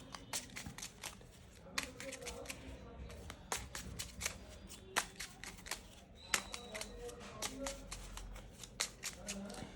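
Tarot cards being shuffled by hand, a steady run of crisp, close riffling snaps and flicks with brief pauses between bursts, fairly quiet overall.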